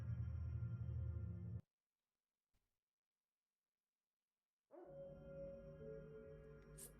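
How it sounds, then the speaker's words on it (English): In the audio game Yellowcake, a guard dog sounds in two bursts separated by near silence, loud and close with a rough, tonal bark-like texture. "The dog has no vision, but can hear and smell you in close proximity."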